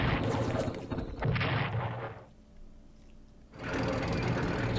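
Artillery fire in the Strategic Command wargame, heavy rumbling bursts that fill the first two seconds, drop to a quieter lull, then return loudly for the final stretch.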